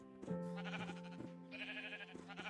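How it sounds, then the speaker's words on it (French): Sheep in a video game bleat in several short, wavering calls over 2.5 seconds, with a brief background tone in the middle and no speech. "Oh merde, j'ai tapé le mouton."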